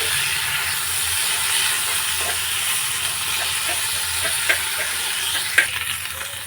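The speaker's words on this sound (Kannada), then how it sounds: "ಈರುಳ್ಳಿ, ಬೆಳ್ಳುಳ್ಳಿ ಮತ್ತು ಬಟಾಣಿ ಎಲ್ಲ ಈ ಥರ ಫ್ರೈ ಆದಾಗ ನುಗ್ಗೆಕಾಯಿ ಹೋಳುಗಳಿದೆಯಲ್ಲ, ಉಪ್ಪು ಅರಿಶಿನ ಹಾಕಿ ಬೇಯಿಸ್ಕೊಂಡಿದ್ದೆಲ್ಲ, ಅದನ್ನು ಹಾಕ್ಬಿಟ್ಟು 1 ನಿಮಿಷ ಫ್ರೈ ಮಾಡ್ಕೋಬೇಕು" Boiled drumstick pieces frying in oil with onion, garlic and peas for a drumstick pepper dry, giving a continuous close sizzle with occasional soft stirring scrapes and a couple of sharper clicks near the end.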